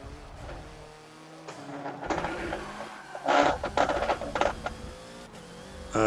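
Hoonigan Focus in a Forza racing game revving hard through a chicane on the Bugatti Circuit, the engine note rising and falling in bursts with mechanical rattles, loudest in a surge midway.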